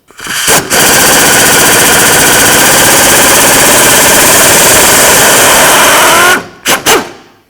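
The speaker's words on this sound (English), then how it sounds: "Now let's remove all 4 of the mounting bolts." A power tool loosens the rear wheel bearing mounting bolts on a 2007-12 Volvo S40 with a loud, rapid hammering rattle. The rattle runs steadily for about six seconds, then ends in two short bursts.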